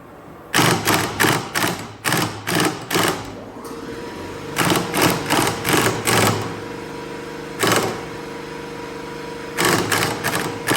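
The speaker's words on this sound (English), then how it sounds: "Sorry about the air compressor." An air compressor runs in a garage during a Honda Civic lower control arm repair, giving a steady mechanical drone beneath loud, rapid bursts of rattling hammering that come and go in short clusters, with no talking.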